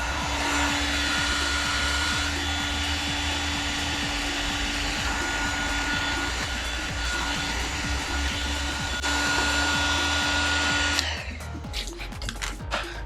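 A heat gun blows hot air under a carbon spoiler on a BMW M4 CS to soften the glue, a loud steady fan roar with a whining tone that cuts off near the end, followed by light clattering.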